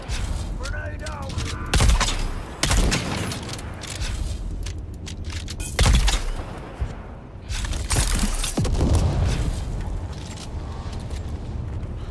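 Rapid gunfire and heavy grenade blasts from the video game Dune Awakening, with loud booming bursts near 2, 6 and 9 seconds breaking through a dense, continuous clatter of shots and mechanical noise.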